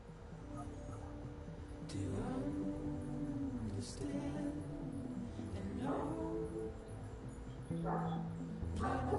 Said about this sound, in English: Whose dog is that barking?